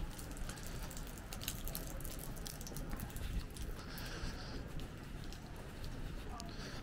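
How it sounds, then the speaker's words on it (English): Steady patter of rain drumming on a camera on a Stockholm street, a dense crackling hiss running throughout with no voices. "it's basically raining for 30 minutes on my camera"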